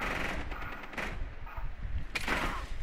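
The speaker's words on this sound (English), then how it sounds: "I shoot at a guy." Gunfire in a Rainbow Six Siege match, a cluster of loud shots near 1 s and another burst around 2.2 s over steady game ambience.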